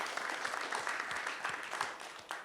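Audience applause at the 22nd Annual Native Hawaiian Convention, a dense steady clapping from a crowd that holds for a couple of seconds at moderate level with no voices over it.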